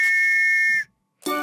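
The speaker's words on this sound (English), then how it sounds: "Listen to the train go choo-choo." A bright train whistle sounds in a children's nursery rhyme song: one sustained clear tone that fades, a short pause, then a second blast begins.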